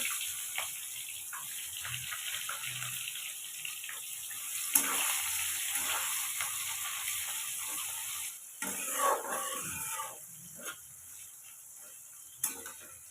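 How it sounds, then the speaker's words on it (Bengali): Whole cumin and onion cut into rings fry in oil after dried red chillies, making a soft, uneven sizzle broken by stirring clatter and a few sharp knocks. "এখন দিয়ে দিব গোটা জিরে, আর দিয়ে দিব পেঁয়াজ কুচি।"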